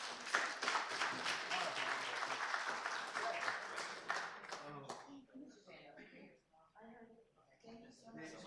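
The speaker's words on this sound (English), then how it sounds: "So can we have an applause, please?" Audience applause at a county innovation month presentation, a dense burst of clapping for about five seconds that thins into scattered claps mixed with voices talking.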